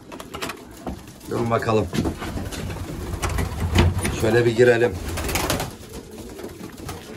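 Several pigeons coo in soft, throaty bursts close by in a loft, while someone speaks over them and there is some rustling and handling noise.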